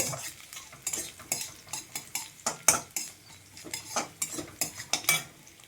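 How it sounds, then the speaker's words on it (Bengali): Cumin seeds frying in a pan as the base for a fish curry, heard as a light sizzle beneath repeated metallic scrapes and clinks from a spoon stirring against the pan at close range. "অল্প কটা জিরে দিতে হবে অল্প পরিমাণ একটু ভেজে নিতে হবে"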